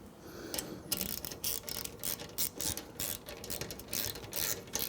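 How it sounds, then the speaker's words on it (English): A 10mm socket on a ratchet clicks in quick irregular bursts while tightening an exhaust clamp on a Triumph Speed 400 motorcycle fitted with a Predator carbon exhaust, close and fairly quiet. "And with a 10mm socket,"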